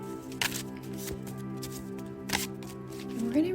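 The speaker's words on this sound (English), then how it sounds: "I'm going to shuffle the cards as you can hear me doing this" Oracle cards are shuffled by hand in a couple of quick, soft riffling bursts, close and quiet, over a steady background of gentle ambient music.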